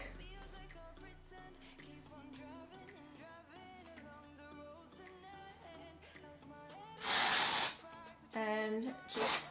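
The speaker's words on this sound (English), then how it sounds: "And just spray it in the pigtail there." Short bursts of hairspray aerosol hiss over background music, one longer spray followed by two briefer ones, sprayed onto a pigtail hairstyle.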